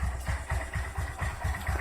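A warmed-up Suzuki GS150R motorcycle engine idles around 1300–1400 rpm, a close, steady low rumble with an even pulsing beat.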